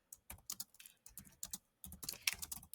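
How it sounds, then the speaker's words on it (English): Quick bursts of keystrokes on a keyboard as a message is typed, irregular clusters of crisp clicks with short pauses between them, close and fairly quiet, with no voices. "You can type up a message"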